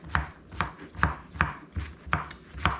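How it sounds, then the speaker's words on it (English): A knife chops a whole summer squash into small chunks on a board, six or seven evenly spaced crisp thuds at a steady, unhurried pace, close and clear with no talking. "I'm just cutting it into small chunks"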